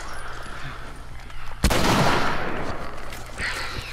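A sudden loud gunshot in The Last of Us, followed by a booming, reverberant tail and scattered game noise, preceded by quieter ambient sounds.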